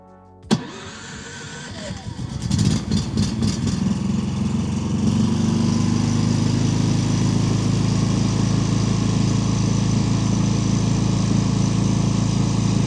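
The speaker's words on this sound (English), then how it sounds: "This is a startup noise, no load yet." An 11,000-watt generator starting up with no load in eco mode, a sharp click and brief cranking followed by the engine catching and settling into a loud, steady, continuous drone that holds for over ten seconds.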